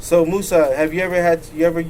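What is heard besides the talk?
No everyday noise stands out behind the speech.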